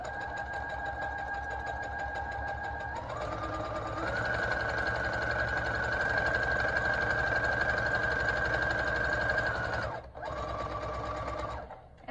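A sewing machine stitching a fabric filter face mask runs steadily and close for about ten seconds with a humming motor and rapid needle chatter, pauses briefly, then runs again.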